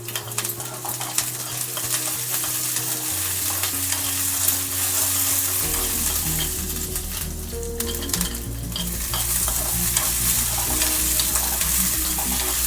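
Cumin seeds, coriander seeds and green chillies frying in a pan, a steady loud crackling sizzle that runs continuously with faint stirring, while a low steady hum sits underneath.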